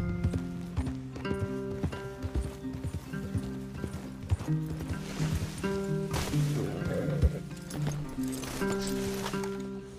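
Horses moving through a Red Dead Redemption 2 game scene, with steady clip-clop hoofbeats and an occasional whinny layered over music and ambient game sound, moderately loud throughout.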